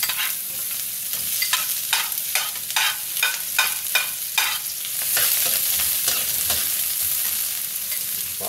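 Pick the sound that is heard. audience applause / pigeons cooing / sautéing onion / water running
sautéing onion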